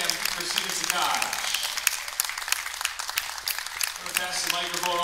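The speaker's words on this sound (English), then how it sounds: "A little round of applause for our second place finisher here as well" At a women's professional billiards final, the crowd gives the second-place finisher a modest round of applause. It sounds as scattered, fairly soft clapping from a small audience, with talk mixed in.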